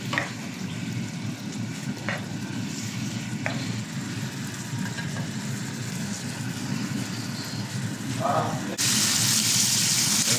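Pork liver sautéing in oil in a frying pan, a steady close sizzle and fry with a few faint stirring scrapes, rising into a louder hiss near the end.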